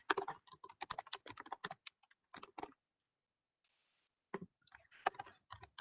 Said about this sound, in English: let me type my email address